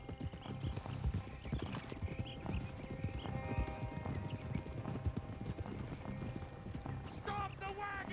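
Horse hooves clip-clop steadily as a team pulls a wagon in Red Dead Redemption 2, with creaking mechanisms, an occasional whinny and voices talking over the continuous, fairly close trotting.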